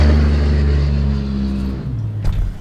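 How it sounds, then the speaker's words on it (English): A truck passing close by, a loud low engine rumble that fades gradually as it moves away, with no talk. "now that truck's passed"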